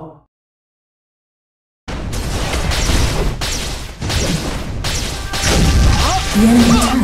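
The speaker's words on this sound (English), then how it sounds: "The enemy turret has been destroyed." An enemy turret is destroyed in the BattleRivals game. Silence gives way to a rapid string of loud crashing, booming impacts that stay dense and forceful until the end.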